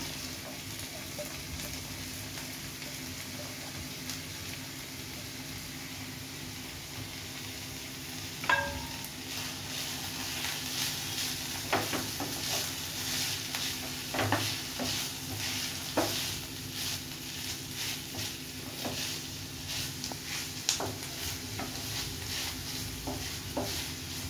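Paneer and tomato sandwich stuffing cooks in a pan over a low flame, a steady soft sizzle with scattered scrapes and taps of stirring throughout, no talking.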